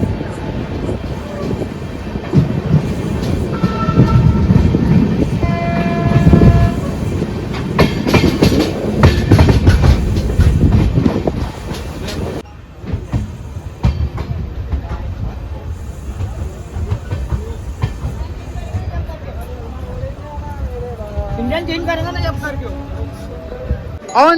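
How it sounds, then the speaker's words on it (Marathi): The 11403 Nagpur–Kolhapur Express, an LHB train, rumbles and clatters loudly into platform 3 at Akola Junction, then the noise eases to a quieter hum with voices and a tonal announcement chime. "अकोला जंक्शन प्लॅट क्रमांक 3 नंबरला आपली ट्रेन आली आहे"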